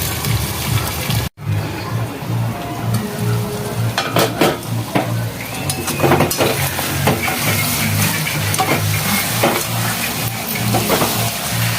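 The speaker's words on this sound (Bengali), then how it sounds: "ঢাকা দিয়ে দিয়ে কষাতে থাকবো, এবং কষাতে কষাতেই মাংসটা সিদ্ধ হয়ে যাবে।" Mutton stir-fried and braised in a covered pan sizzles steadily for the whole stretch, with a brief break near the start and scattered scraping and clatter from stirring.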